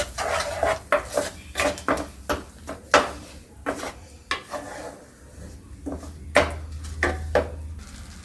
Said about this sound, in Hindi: इन सबको भून लेंगे, टमाटर और मसाले को एक साथ भून लेंगे।